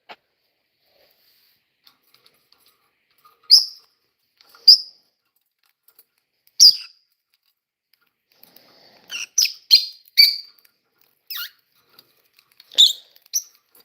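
Several sharp, high bird chirps come in scattered single notes, then a quicker cluster, close by in an otherwise quiet outdoor setting with no talking.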